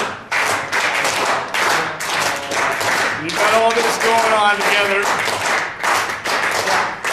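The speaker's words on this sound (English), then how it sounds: "I want you to clap this beat and stay there. Stay clapping and follow David." An audience at a jazz history presentation claps steady layered rhythms, mixing triple and duple beats, in a continuous loud patter, while someone speaks over it.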